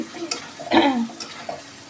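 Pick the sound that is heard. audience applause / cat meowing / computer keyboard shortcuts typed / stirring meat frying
stirring meat frying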